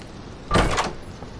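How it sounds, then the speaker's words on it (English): A door in the Roblox horror game Doors is unlocked and pushed open: one short, loud creaking rattle with a scraping tail, heard alone over faint room tone. "I'm going to unlock the door without them."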